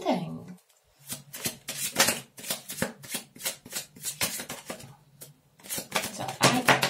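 Tarot cards riffle and flick in quick bursts, with brief pauses between rapid shuffling passes and a soft low hum underneath.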